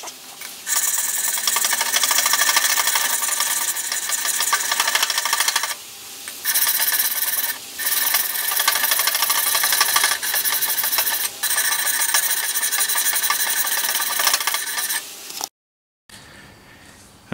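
120 grit sandpaper rubs along the bevel of an axe or hatchet blade in steady, loud, continuous scraping strokes, close up, with brief breaks between passes and a short silence near the end.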